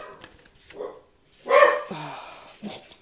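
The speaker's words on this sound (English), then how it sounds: "I'm so sorry for the bark." A pet dog named Baxter barks indoors, one loud sharp bark in the middle followed by a short whiny yip, with quieter stirring sounds before and after.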